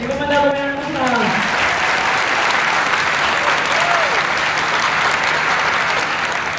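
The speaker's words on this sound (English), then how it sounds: "Give him another round of applause." An audience applauds at a 5th grade elementary school graduation, with loud, sustained clapping that fills the room and a voice briefly heard at the start.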